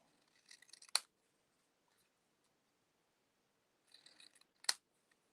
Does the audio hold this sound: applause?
no